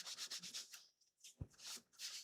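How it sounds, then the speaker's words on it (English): Soft rhythmic rubbing strokes of a towel over a freshly sanded wooden block, wiping off sawdust, close and quiet, with a brief knock partway through. "and rub off any sanding paper, sawdust, or whatever the heck"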